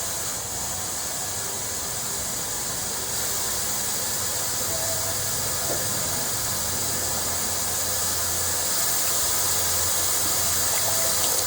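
Fuel siphons out of a truck fuel tank that has a chunk of debris inside. It makes a steady, continuous hiss and trickle with no breaks, heard close and fairly loud throughout.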